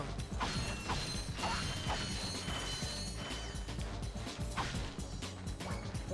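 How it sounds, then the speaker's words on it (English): Metallic clinks and mechanical rattles of nuts and bolts being collected in the Ratchet & Clank video game, dense and continuous with rapid overlapping clatters throughout. "now pick up these. Don't want to not get my nuts and bolts."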